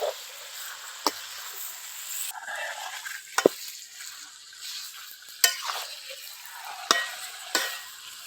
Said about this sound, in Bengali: এখন মাংসটা দিয়ে দেবো